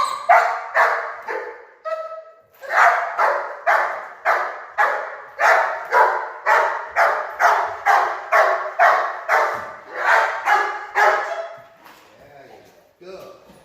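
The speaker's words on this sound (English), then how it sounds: "He's barking naturally for the ball, which is good." Dog tied to a post barking for a ball, a long run of loud, evenly spaced sharp barks close by, pausing briefly once and then trailing off into softer whimpers at the end.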